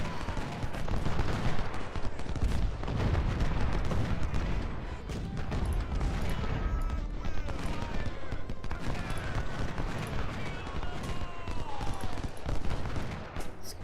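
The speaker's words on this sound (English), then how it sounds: "A lot of cannons to deal with here." Cannon fire in the Civil War strategy game Ultimate General: Civil War: a dense, continuous battle din of booming artillery and crackling gunfire, loud and sustained throughout, with a voice speaking briefly over it.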